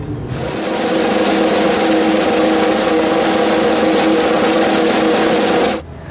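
Motorcycles race around inside a circus globe of death, producing a loud, steady, buzzing engine roar that swells up quickly and holds for several seconds before cutting off.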